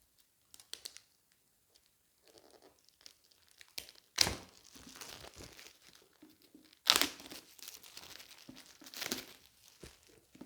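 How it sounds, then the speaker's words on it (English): Paper wrapping is pulled off a book with close crinkling and crumpling, punctuated by two loud tearing rips among quieter intermittent rustles in an otherwise quiet room. "let me remove this paper."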